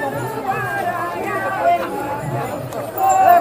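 Dense crowd of pilgrims in the 2024 Ashadhi Ekadashi wari procession at Pandharpur, heading toward the Chandrabhaga river, with a steady hubbub of many voices and some singing close by, swelling slightly toward the end.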